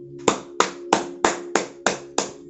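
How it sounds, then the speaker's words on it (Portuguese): A single person's slow, deliberate hand claps, about eight crisp, evenly spaced smacks close and loud, each with a short reverberant tail, and no talking between them. "palmas."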